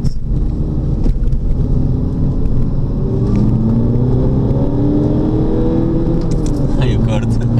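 An Audi TT 8S TDI with a particulate filter, modified to over 200 hp, rumbles loudly and climbs through the revs, rising toward a muffled rev-limiter cut, with people talking inside the car throughout.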